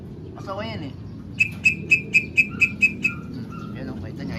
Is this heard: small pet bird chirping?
yes